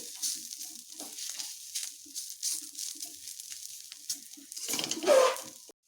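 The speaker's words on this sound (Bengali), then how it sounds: "এটিকে প্রথমে এভাবে ভালোভাবে ভেজে নিতে হবে" Pointed gourd peels fry in a pan with a steady, moderately loud sizzle and crackle, interrupted by a few soft scraping stirs. The hiss swells near the end.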